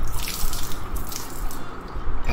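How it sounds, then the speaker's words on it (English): Distilled water rinsing over a metal part being prepared for anodizing, a steady close splashing stream that runs continuously and cuts off just at the end. "Rinse it off with a little distilled water."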